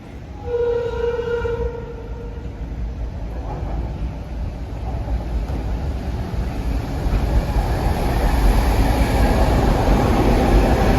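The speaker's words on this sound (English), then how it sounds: "here comes train 768 from Croton Harmon to Grand Central with more M3s" A Metro-North commuter train of M3 railcars, running from Croton-Harmon to Grand Central, passes close by. A horn-like tone sounds early, then a broad rushing rumble builds steadily louder and fills the scene.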